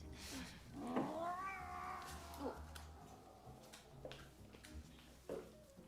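A cat lets out one long, drawn-out meow close by, followed by quieter room noise and faint movement.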